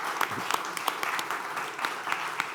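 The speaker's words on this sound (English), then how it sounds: "Big applause for that." Scattered audience applause follows a banking panel remark on open finance, a thin, moderately distant patter of clapping with a few sharper individual claps.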